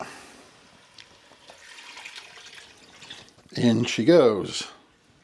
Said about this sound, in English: And it's in with our litre, 1000 millilitres of vegetable stock.